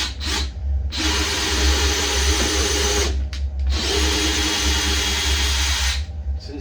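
A DeWalt DCD980 cordless drill bores a new hole, two long loud bursts of high-speed whining and grinding separated by a short pause, close by with no talking.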